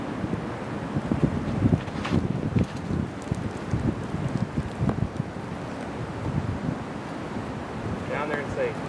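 A headwind sweeps across a disc golf course, buffeting the microphone in irregular gusts with a steady rushing roar throughout.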